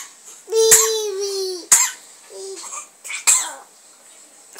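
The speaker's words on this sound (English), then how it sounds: "She coughed." A two-month-old baby gives several short, sharp coughs, with a couple of brief voiced cries or coos between them, close and fairly loud.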